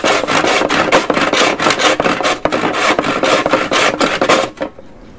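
Fresh crosscut handsaw cutting through a plastic headlight bracket on a 1997 Jeep Grand Cherokee ZJ, rapid steady back-and-forth rasping strokes up close and loud, stopping abruptly at the end.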